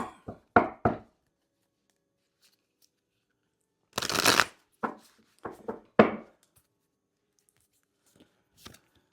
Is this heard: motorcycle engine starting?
no